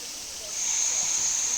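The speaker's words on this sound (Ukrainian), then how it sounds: "Так, тут ніби стікає так вода. Бачите, як гарно стікає, такими сходинками" Bukhtivets waterfall in the Carpathians sends water cascading down rock steps, a steady broadband rush that swells after a moment and holds level, with a thin high hiss riding on top.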